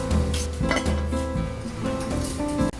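Boiled lobsters lifted out of a pot of court bouillon, with clinks and clatter of metal utensils against the pot over a steady background hum, no talking.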